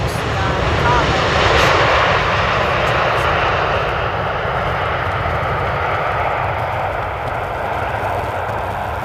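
A KLM jet airliner arriving from Las Vegas lands at Amsterdam Schiphol, a loud, steady broadband roar of engines that swells early and then holds, with no talk over it.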